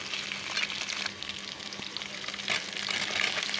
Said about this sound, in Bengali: একেবারেই লাল লাল করে ভাজা হয়ে গেছে পেঁয়াজ